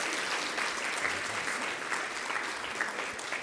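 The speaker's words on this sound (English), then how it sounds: "Round of applause for Lisa Stafford" Steady, full applause from an audience at an honors presentation ceremony in Chicago, dense clapping filling the whole stretch evenly without pause.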